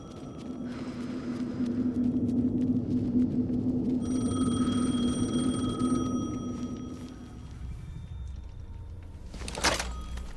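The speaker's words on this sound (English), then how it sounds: "The phone again." An old telephone rings in the survival horror game Alan Wake 2, its bell sounding over a low droning ambience, then giving way to a sharp close clatter near the end.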